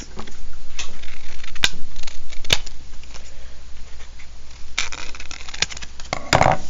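Scissors cutting the corners off a paper triangle, a few sharp snips and crisp paper rustling up close, ending in a brief cluster of clicks.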